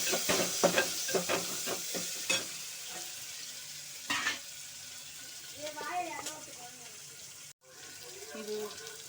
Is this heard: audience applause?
no